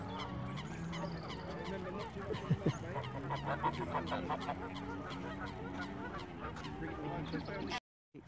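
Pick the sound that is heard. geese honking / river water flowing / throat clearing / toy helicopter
geese honking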